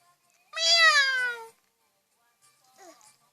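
A cat gives one long, clear, close meow, followed after a pause by a softer, shorter mew.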